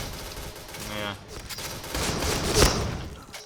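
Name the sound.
rapid shotgun fire in the video game Point Blank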